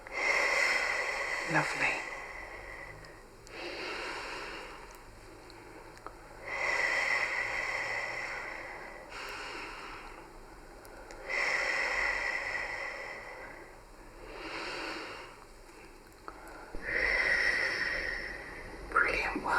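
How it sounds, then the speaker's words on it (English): Slow, deep breaths during a guided relaxation exercise, several long airy inhales and exhales spaced evenly apart, soft and close, with a brief spoken word in between. "So last 4 breaths."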